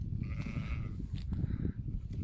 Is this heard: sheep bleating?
yes